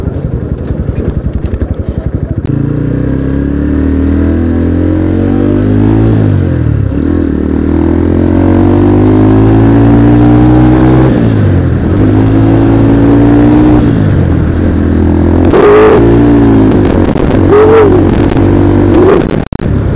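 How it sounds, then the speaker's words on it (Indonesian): A 2010 Yamaha Scorpio Z 225 motorcycle on a test ride along a straight road, its engine revving loudly and climbing through repeated rising pulls with gear changes, close and alone without talk. "bisa buat nyoba motor ini seberapa kencang gitu"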